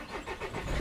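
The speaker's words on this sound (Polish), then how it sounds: "jak podałem plus, jak widzicie, samochód normalnie odpala" A Peugeot 406 with an immobiliser fault catches and runs for a moment after starting, giving a close, short, uneven engine rumble.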